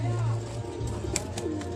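Young satin pigeons coo softly in a rooftop loft, a low continuous murmur of birds close by with occasional brief higher chirps, while someone talks over them.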